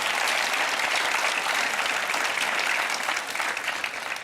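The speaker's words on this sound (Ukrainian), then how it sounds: "Ваші оплески" A studio audience claps steadily for a urology professor as he is introduced on a Ukrainian TV health talk show, with dense, loud applause that holds from start to finish and softens slightly at the very end.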